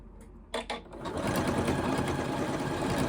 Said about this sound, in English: When sewing with a decorative stitch, remember you're just guiding the fabric.